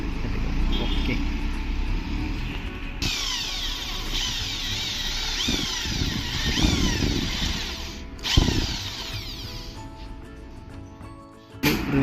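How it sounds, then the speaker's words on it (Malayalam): A power drill bores out rivets while a wind visor is fitted to a Triumph Speed 400 motorcycle, giving loud whining bursts that rise and fall with short pauses between them, and someone talks over it. "റിവറ്റിനെയും ഡ്രില്ല് ചെയ്ത് കളഞ്ഞു കേട്ടോ."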